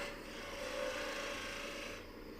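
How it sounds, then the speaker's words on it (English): Spindle gouge cutting a spinning wooden coffee scoop blank on a woodturning lathe, a steady close rasping scrape with a faint tonal hum, easing off near the end. "using the spindle gouge here to"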